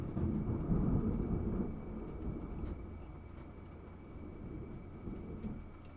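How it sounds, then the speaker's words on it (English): Thunder rolls during a storm as a low, rumbling swell that is loudest early on and then fades into a softer, lingering grumble, with faint rain-like hiss underneath and no talk. "I just heard lightning in the headphones."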